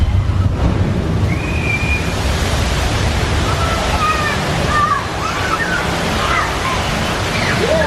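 Water splashes and sloshes steadily in a Universal Studios Splash Zone at a theme park, a loud constant wash with faint high voices or squeals scattered through it.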